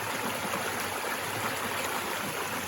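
Under a footbridge on the Appalachian Trail in Vermont, a stream rushes loud and close, a steady, broadband wash of flowing water with no pauses.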